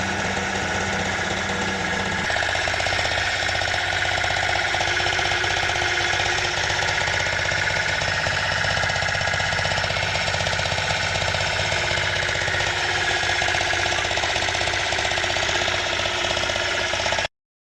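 A diesel engine runs continuously and loudly for the whole stretch, with a steady rough, rattling drone and a slight change in tone early on.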